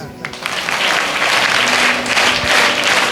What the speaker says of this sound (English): That's why a huge thank you to all of you. 3 claps, please.